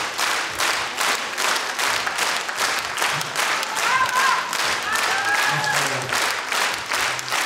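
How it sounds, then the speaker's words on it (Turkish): Concert audience applauding a performing artist at a Crimean Tatar music concert, sustained, dense clapping from a large crowd at moderate loudness, with a few faint voices and whistles rising through it. "Bu alkışlar sizge."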